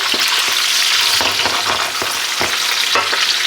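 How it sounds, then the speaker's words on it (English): Onion and garlic sizzle steadily in a pan for a fish stew, a loud, continuous frying hiss broken by the occasional clack of stirring, with no voices. "sweat this onion down just a little bit"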